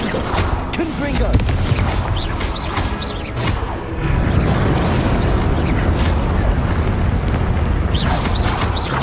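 Fiery Confringo spell blasts boom repeatedly during Hogwarts Legacy combat, loud dense bursts layered over continuous battle effects and music.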